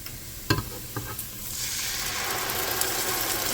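Crushed tomatoes and tomato paste dropped into a hot pot of homemade spaghetti sauce, a few soft splats and clinks followed by a steady, close hiss of sizzling.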